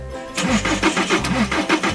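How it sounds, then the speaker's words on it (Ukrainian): A tractor engine cranks in short repeated bursts, a rhythmic chugging turnover of about six strokes, near and fairly loud, without catching or settling into an idle. "Давайте спробуємо ще раз завести трактор."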